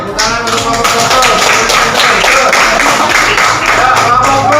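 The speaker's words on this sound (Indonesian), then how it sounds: "Tepuk tangan untuk Pak Profesor" Applause for a professor at a school coaching and academic supervision session, a steady dense patter of many hands clapping that fills the whole moment at an even, fairly loud level.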